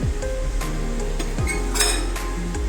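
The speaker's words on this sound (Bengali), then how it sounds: "এবার পনিরগুলো এই মশলার সাথে ভালো করে নেড়ে চেড়ে মিশিয়ে দেবো" Paneer being stirred into a spice mixture in a pan, with repeated close metallic clinks and scrapes of a utensil against the pan over a low cooking hiss, and no talking.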